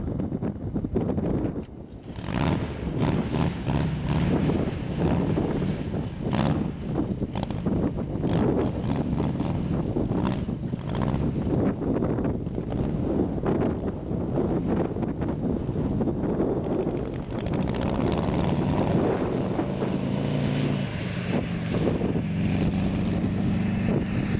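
Strong wind buffeting the microphone continuously, a loud, rough roar with gusty surges throughout, no other sounds standing out.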